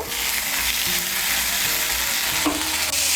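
Ridge gourd fries with spices in a pan over raised heat, giving a steady, close sizzle with soft scraping as it is stirred, and a brief clank near the end.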